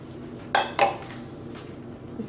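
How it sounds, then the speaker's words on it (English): Two quick clinks of 200 grams of dyed yarn fiber set down into a ceramic microwave-safe bowl, close and sharp, followed by a softer tap, with no talking. "I am going to place this in a microwave safe bowl."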